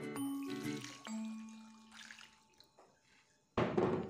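Water pours from a container into a jelly mixture of gelatin, cornstarch and sugar, a soft trickle rising to a louder gush at the end, close and fairly quiet.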